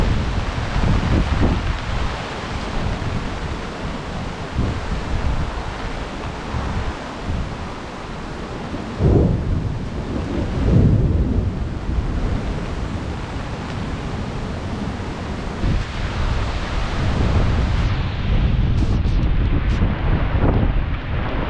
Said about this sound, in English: Wow, that wind's really blowing.